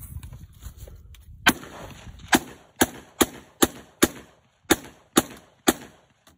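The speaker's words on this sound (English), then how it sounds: "What is that you shooting? Hell yeah! 3D printed AR-15." A 3D printed AR-15 rifle fires nine sharp, loud shots at an uneven, deliberate pace outdoors, each with a short ringing tail, after a low rumble of wind or handling.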